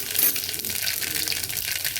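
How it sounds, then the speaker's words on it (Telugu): Mustard seeds crackle and sizzle in hot oil, a dense, bright, continuous hiss with tiny popping bursts, close and fairly loud. "ఇదిగండి ఆయిల్ వేడెక్కింది, కొంచెం ఆవాలు వేస్తున్నా"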